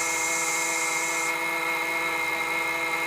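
A Bafang BBS02 e-bike mid-drive motor with a 60A 3000W Castle Creations controller spins at high RPM on higher voltage, giving a loud, steady, tonal whine with layered harmonics that shifts slightly partway through.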